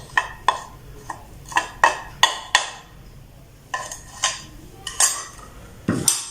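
A potato and salt mixture is beaten in a bowl for a cheese sandwich filling, giving sharp, repeated clinks of utensil on bowl in uneven bursts with short pauses between.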